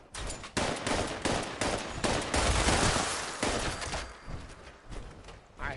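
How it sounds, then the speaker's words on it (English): A minigun in the game Fallout 76 firing in long rapid bursts, with dense loud gunfire broken by short pauses and fading toward the end. "I have a minigun."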